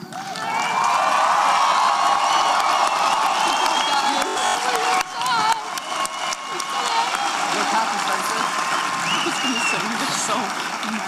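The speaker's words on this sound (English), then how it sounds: "I would appreciate if the audience would limit their applause to allow reading of all student names" Loud, sustained applause and cheering from a high school graduation audience, with whoops and shouts rising over dense clapping throughout, a brief dip midway before the crowd noise swells again.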